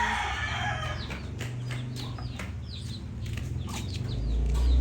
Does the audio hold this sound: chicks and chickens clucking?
yes